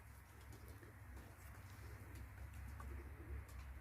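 Pigeons coo softly and repeatedly in a low, murmuring chorus, with occasional faint chirps over a steady background hum.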